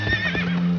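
A horse whinnies in a short, high, wavering call with a steady low hum underneath.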